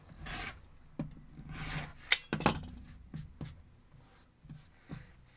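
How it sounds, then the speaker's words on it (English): Fabric edges of a 12 inch triangles-and-stripes quilt block are trimmed, giving quiet rasping cuts in several short strokes along with soft rustling and a few taps. "We're going to line up our diagonal and trim off 2 sides."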